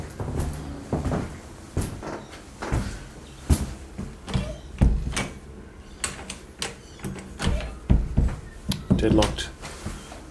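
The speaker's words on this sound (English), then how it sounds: "I can open the back door from inside." Repeated knocks, rattles and handle clunks from someone trying to open a deadlocked back door of an abandoned house from the inside, uneven bursts over about ten seconds, close by, with faint voice at moments.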